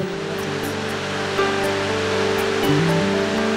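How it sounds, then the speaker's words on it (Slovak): Victoria Falls in Zambia roaring as a dense, steady wash of falling water, loud and continuous, with soft sustained music tones layered over it. "Pokochajte sa ešte v očarujúcej nádhere zambijských vodopádov"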